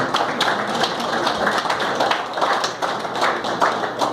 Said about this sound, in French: Encouragez-moi avec les applaudissements.